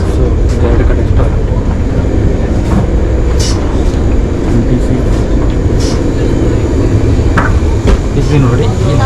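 A passenger train rolls through snow and ice in Russia, a steady, loud, continuous rumble of wheels and carriage noise heard from inside the car, with a few faint clicks and knocks scattered through it.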